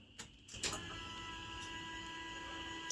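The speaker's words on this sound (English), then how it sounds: "Y'all hear that whirring? Well, that's a fuel pump." Steady electric fuel pump whir in a hot rod 4x4 truck, a continuous mechanical hum with faint tonal whine running unbroken, fairly close and alone after a couple of brief clicks at the start.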